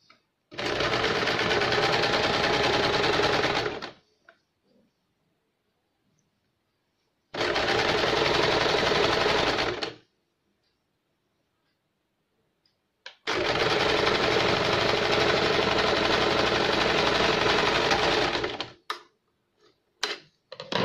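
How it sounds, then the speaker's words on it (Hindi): A sewing machine stitches the cross strip on a tucked blouse in three loud, close bursts of rapid, even whirring, separated by silent pauses and a few faint handling clicks. "दूसरे साइड की हम इस तरह से जॉइंट करेंगे, ऐसे सिला देंगे।"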